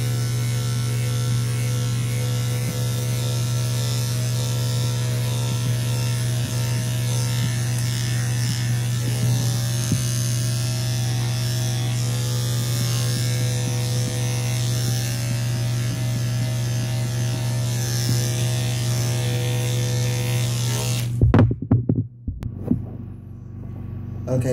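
Electric clippers run steadily while shaving a schnauzer during home grooming, a constant close buzzing hum with faint scraping through the coat, cutting off near the end.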